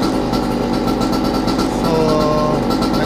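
A Goped GTR scooter's small two-stroke engine idles steadily around 3000 RPM, a close, continuous buzzing drone with a faint rising whine near the end and no talk.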